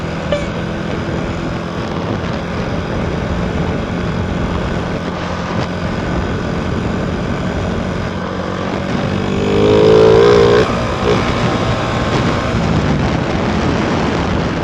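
Steady engine and road noise from a car driving along at an easy, unhurried pace, a continuous broadband hum with a brief louder swell midway.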